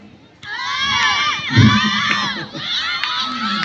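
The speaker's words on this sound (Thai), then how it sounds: "โอ้เสียงกองเชียร์หมู่เก้าโคตรน้องอินนะครับ" Village 9's cheering squad at a village sports event shouts and cheers together, a loud, close chorus of high young voices rising in sustained yells with a brief dip and renewed burst.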